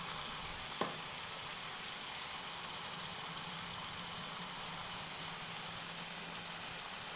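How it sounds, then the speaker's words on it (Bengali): Chicken meat fries in a pan, giving a steady, continuous sizzle and crackle with a single sharp clink early on, and no one speaks. "মাংসটা দিয়ে 2 মিনিট ভাজার পর এরপর দেবো মশলা"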